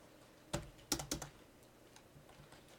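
A few quick keystrokes on a computer keyboard during a programming class, sharp clicks in a brief cluster followed by quieter taps against a faint room hush.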